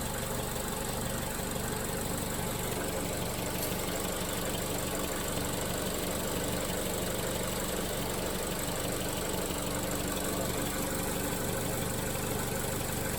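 A Vauxhall Corsa D engine idling on a project car after being brought back to running, a steady low mechanical hum with even rhythmic ticking, moderately close, no voices.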